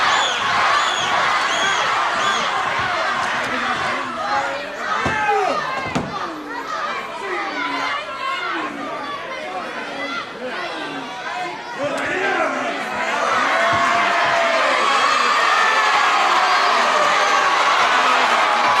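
Crowd at a 1970s televised World of Sport professional wrestling bout between Steve Veidor and Johnny Yearsley, a dense, loud roar of shouting and cheering that swells and stays up throughout, with individual voices yelling in the mix.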